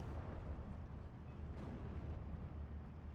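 A tank gun round striking an enemy tank in the WWII strategy game Steel Division 2, heard as a dull, rumbling impact blended into continuous low battlefield roar, with no single sharp report standing out.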